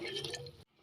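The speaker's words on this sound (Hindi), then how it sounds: "अभी इसके अंदर हमने 2 गिलास पानी के डाल देने हैं।" Water from two glasses poured into a pot of tinda (apple gourd) curry with its spice base, a close splashing, gurgling pour that stops sharply near the end, leaving a faint tail.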